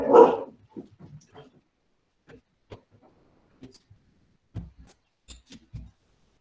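Several pet dogs bark in short, scattered bursts, one loud nearby yelp first and then sharper barks spaced out across quiet gaps, some closer and some farther off.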